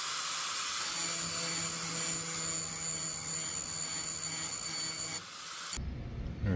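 A grinder bevels the edges of steel plates for a large metal d20 sculpture. It gives a continuous close whining roar with a steady pitch, then changes abruptly near the end.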